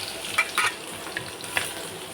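Onions and chana dal fry in a pan for semiya, giving a steady soft sizzle at close range with a few brief clinks of stirring.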